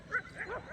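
A dog gives a short, close yelping bark with a whiny, rising and falling pitch, a brief burst on its own with no talking.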